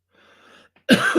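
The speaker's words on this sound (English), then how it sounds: "now I'm still coughing a bunch" A single sharp, loud cough close to the mic, bursting out after a faint murmur and a short silence.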